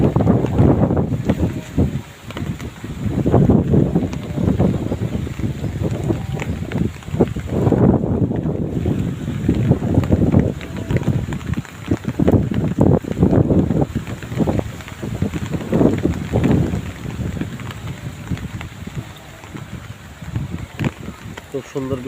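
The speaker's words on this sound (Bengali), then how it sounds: "একটু জোর হাওয়া হচ্ছে অনেক বেশি।" Strong gusty wind blows outdoors during rain in front of a house, roaring and buffeting the microphone in uneven surges for the whole stretch, with a voice occasionally talking over it.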